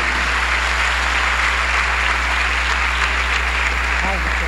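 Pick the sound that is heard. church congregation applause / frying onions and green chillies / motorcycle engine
church congregation applause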